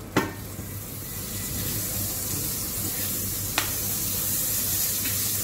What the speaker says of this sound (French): À ce moment-là, on remet un peu de beurre dans le poêle.